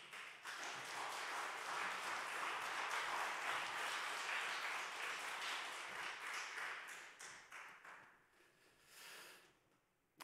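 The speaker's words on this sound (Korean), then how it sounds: "먼 길 오셨다고 환영의 박수 한번 해드리겠습니다" A church congregation gives a loud, sustained round of welcoming applause for a visiting guest preacher at an afternoon worship service. The clapping is dense and steady for about eight seconds, then thins and fades to scattered claps.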